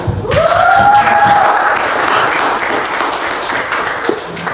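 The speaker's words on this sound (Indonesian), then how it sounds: "Mari kita sambut kedua narasumber kita dengan tepuk tangan yang meriah." Crowd applause greets the speakers at a talk show on artificial intelligence and personal branding, rising over a brief whistle-like tone, then settling into steady, moderately loud clapping with a thump near the end.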